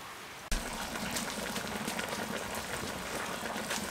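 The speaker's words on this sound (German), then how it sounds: "es blubbert so schön vor sich hin" Turkey strips and mushrooms simmer in a Dutch oven, giving a steady, close, continuous bubbling and sizzling that starts abruptly and keeps going without pause.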